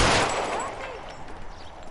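Gunfire in the video game L.A. Noire: a loud, close burst at the start that rings and decays, followed by fainter scattered noise.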